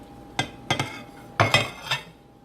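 Chopped food pieces tipped into a bowl for a home-cooked dish, heard as about five sharp clinks and knocks of utensil against the bowl in an uneven rhythm, close and clear with no talk.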